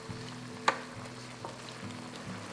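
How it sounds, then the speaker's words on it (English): Braised Chinese pork belly stirred in a pan with Chinese rice wine, a soft continuous sizzle with a sharp scrape of the utensil early on and lighter stirring sounds after, close and without talk. "Add a 1/4 cup of Chinese rice wine. Stir everything around nice and easy."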